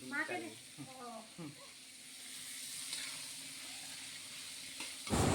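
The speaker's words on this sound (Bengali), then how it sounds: "আমি এদিকে মাংস করার জন্য পেঁয়াজ ভাজছি" Onions fry in oil in a pan for a meat curry, producing a soft, steady sizzling hiss. A voice talks over the opening seconds.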